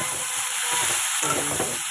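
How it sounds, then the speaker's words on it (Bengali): Cut okra (bhindi) coated with salt and turmeric fries in a hot pan, sizzling loudly and continuously with occasional scraping from stirring. "এটা একটু হালকা করে ভেজে নেবো আগে।"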